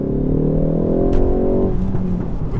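A front-wheel drive car's engine revs up under acceleration on a wet road, a close, loud rising drone that climbs in pitch, then drops off as the gear changes near the end.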